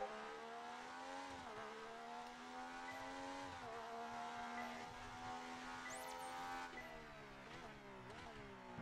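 Engine of a Formula One car in the F1 2019 racing game, a steady high whine with shifting pitch as it accelerates and eases off, close and continuous with no speech.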